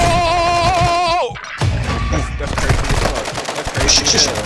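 Rapid exchange of automatic gunfire in Warzone 2.0, dense loud volleys of shots continuing after a short sharp break, with game sounds mixed in.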